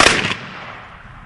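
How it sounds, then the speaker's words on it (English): A ceremonial firing party fires a rifle volley at a Medal of Honor heritage trail marker dedication outdoors, a single loud crack with a long echoing decay and no talk. "Aim by the right oblique. Fire!"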